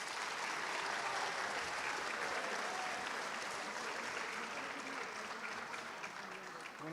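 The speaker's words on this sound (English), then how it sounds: "that's a good round of applause" Sustained applause from a large audience at a FIRST Robotics team induction ceremony, a steady, even wash of many hands clapping, moderately distant, holding for the whole stretch and easing slightly at the close.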